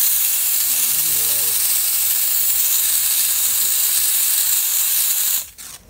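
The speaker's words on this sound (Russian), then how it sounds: "Под давлением подают воду и пар." A loud, steady hiss of pressurised water and steam from a heated steam cleaner runs continuously, then cuts off abruptly just before the end.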